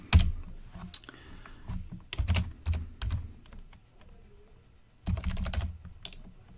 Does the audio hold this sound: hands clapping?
no